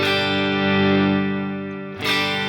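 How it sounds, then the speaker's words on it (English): Stratocaster electric guitar played through distortion with the volume knob turned down, a single held chord ringing and slowly fading before a new strum near the end; no voices. "on this guitar, especially when I get a bit of distortion, if I take down the volume"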